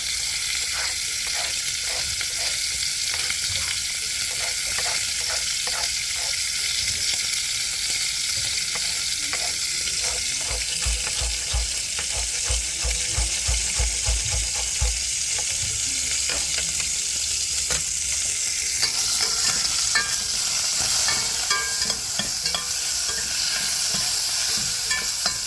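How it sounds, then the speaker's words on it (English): Lamb sears steadily in a hot pan for a Moroccan lamb and garbanzo stew, a continuous close sizzle and crackle with occasional stirring scrapes and a brief low rumble partway through, no voices. "Sear from both sides very well."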